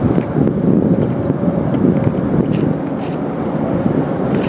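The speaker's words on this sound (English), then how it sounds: "Why start your big motor when you got a trolling motor?" Small fishing boat moving on open water with its trolling motor running, a steady broad rumble and wash with wind buffeting the microphone throughout, no talk.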